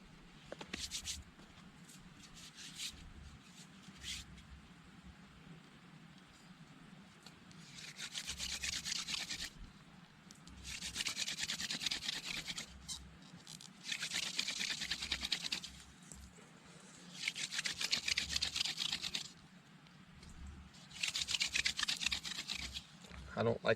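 A wooden spindle is rubbed against a fireboard in bursts to burn in a friction-fire socket, giving repeated rough scraping strokes lasting a few seconds each, with quieter pauses between.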